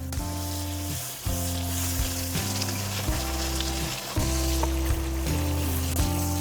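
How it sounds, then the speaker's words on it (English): Butter sizzles steadily on a hot skillet as hamburger buns toast, a continuous crackling fry heard close and moderately loud, with no talk. "I'm just gonna put some butter here on the skillet and I'll butter them that way"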